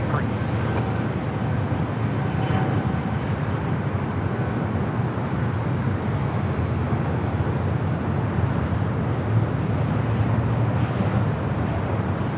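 A JetBlue airliner landing on runway 24 right at Los Angeles International Airport makes a steady, broad roar: a continuous rumble at an even level throughout, with no distinct events standing out.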